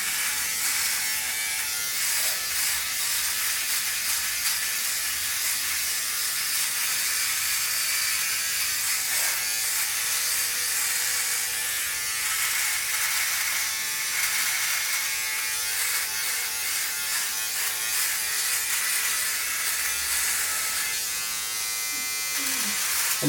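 Philips Norelco OneBlade electric trimmer cutting through hair, a close, steady buzzing hum that runs the whole time with a faint ratcheting texture as the blade moves up and down.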